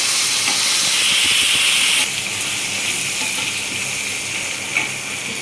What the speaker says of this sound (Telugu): ఇప్పుడు దీంట్లో టమాటా, పచ్చిమిర్చి కూడా వేసేస్తున్నాను.